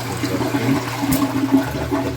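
Toilet flushing after a Korky fill valve replacement in a small, cramped bathroom, a loud rushing swirl of water draining and refilling steadily throughout.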